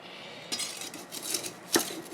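A clean plant pot gets handled and set down, with a few clinks and knocks of hard pottery sounding close and loud between stretches of quiet.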